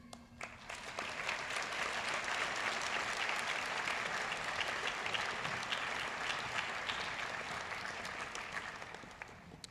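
A large crowd applauds steadily for several seconds at a medical school white coat ceremony, the clapping swelling quickly and then slowly tapering off.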